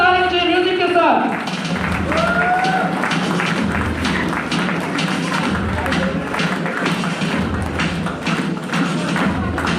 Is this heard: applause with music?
yes